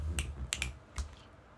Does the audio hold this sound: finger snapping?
yes